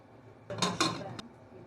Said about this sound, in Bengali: এই প্রেসার কুকারের ঢাকনাটা আমি এবার লাগিয়ে দিচ্ছি।